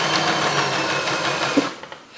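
A regular domestic sewing machine runs a contrast topstitch on a baby tee in a quick, even rattle at close range, then slows and stops near the end with a couple of small clicks.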